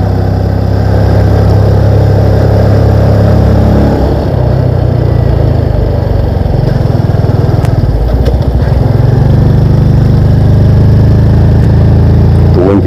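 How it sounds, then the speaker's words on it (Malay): A Yamaha PG-1 motorcycle engine climbs the Gunung Jerai mountain road, a loud, close, steady drone that runs continuously without a break. "Kita nak bagi bunyi enjin dengar."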